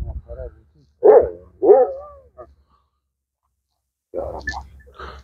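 A dog barks a few times nearby in short separate bursts, with pauses of quiet between them, in a casual outdoor visit with people talking around it.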